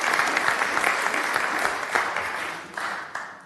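Applause from the audience at a city commission meeting, loud and dense clapping that peaks early and then tapers, with a few louder claps near the end.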